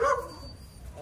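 A dog barks a few times near a makeshift shack in a typhoon-damaged barangay in the Philippines, with short loud yelps at the start and end over a quieter outdoor background.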